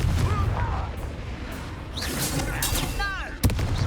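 A Confringo blasting spell going off in the Hogwarts Legacy video game: a sharp, punchy blast late in the moment over a busy bed of game effects and swooshing tones, with a voice speaking earlier.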